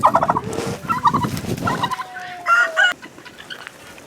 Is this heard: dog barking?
no